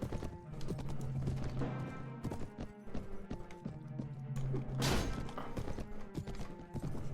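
An armoured horse in the video game Mount & Blade gallops with rapid, loud clip-clop hoofbeats, whinnies over the running, and game music or ambience plays underneath.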